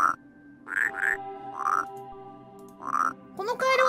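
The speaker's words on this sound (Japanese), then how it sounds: "このカエルは捕獲できないの？" Frog croaking in a video game, a series of repeated nasal croaks in a slow, uneven rhythm, loud and close, with a voice entering at the end.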